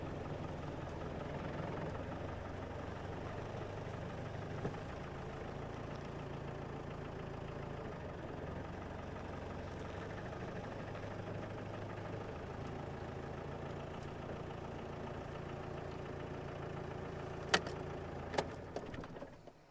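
A safari vehicle's engine idles steadily on a game drive in the bush, a low continuous rumble held for the whole stretch, ending with a few sharp clicks and knocks near the end.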